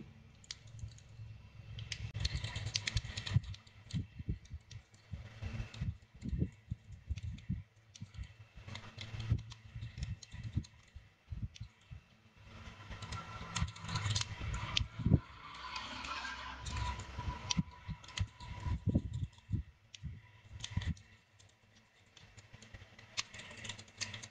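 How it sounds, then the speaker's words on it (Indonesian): A screwdriver backs small screws out of a Xiaomi Redmi 4X phone during a battery replacement, giving close, irregular bursts of light clicks and ticks with no talking. "ada beberapa baut di situ kita akan buka pakai obeng yang tadi"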